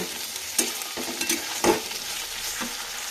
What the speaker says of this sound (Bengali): কাঁচা লঙ্কাগুলোও দিয়ে দেব। দিয়ে আবারও নাড়াচাড়া করতে শুরু করে দেব।